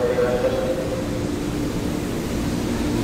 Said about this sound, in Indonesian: Wah, ada kereta nih.